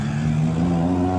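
Car engine revving in a steady drone on a street in central Los Mochis, Sinaloa, loud and close, with no voices.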